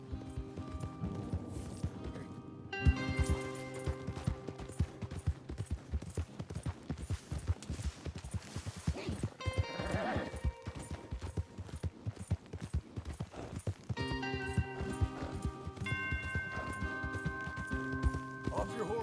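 Horses gallop in Red Dead Redemption 2, rapid clip-clop hoofbeats under game music, with characters talking over the ride.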